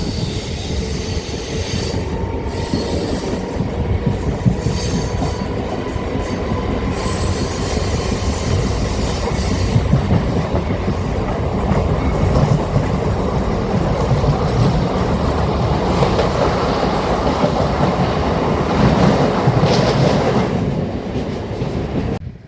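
An empty rake of the Chennai Central–Shimoga weekly superfast express rolls past at close range, a loud, continuous rumble of wagons with squealing wheels and faint clickety-clack that lasts over twenty seconds before easing off.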